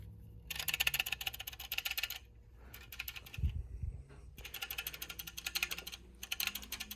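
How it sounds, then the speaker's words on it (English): Plastic AC vents rattle inside the cab of a Kenworth Aerocab truck (T-800, W900 or T-600), a fast, dense clatter in several bursts separated by brief pauses, with a low thump partway through. "The other vents rattle. I don't really care if they do this, but that rattling has got to go."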